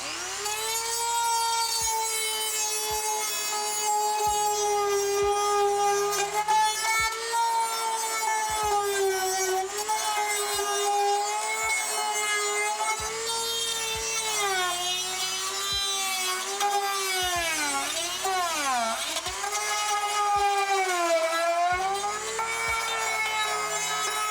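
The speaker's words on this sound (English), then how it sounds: "let's try the 80 grain sandpaper and let's go." Steady, continuous scraping from 80 grit sandpaper on a Datsun fender rail during rust repair. A strong whining tone runs under it the whole time, with faint regular ticks.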